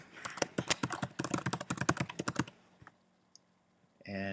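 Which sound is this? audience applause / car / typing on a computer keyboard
typing on a computer keyboard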